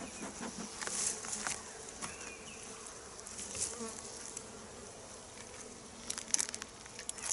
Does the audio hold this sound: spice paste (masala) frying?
no